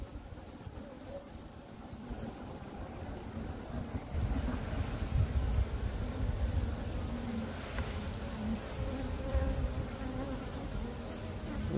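Honey bees buzz steadily at a beehive in a continuous dense drone, outdoors with some wind rumble, close to the microphone and without speech.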